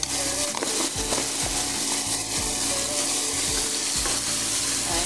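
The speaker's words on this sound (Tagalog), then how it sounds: "Saute lang natin." Vegetables seasoned with pepper, salt and Ajinomoto sauté in a pan, with a constant close sizzle under rhythmic scraping strokes of a spatula repeating roughly every half second.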